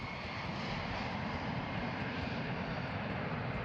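A massive Boeing 747 fitted with a large telescope in a strengthened fuselage takes off, its engines giving a loud, steady, broadband roar that holds unbroken throughout with no voices.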